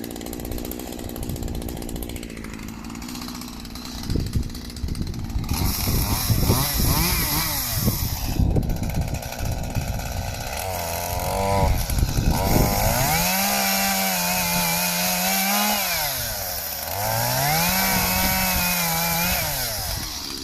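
Small petrol engine on an allotment runs after a carburetor adjustment, a loud, close, steady buzzing drone whose pitch rises and falls as it revs up and settles, continuing for the full stretch.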